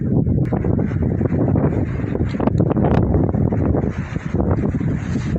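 Strong wind buffeting the microphone outdoors at the Anadolu Hisarı fortress in Istanbul, a loud, continuous low rumble with gusting bursts filling the whole stretch.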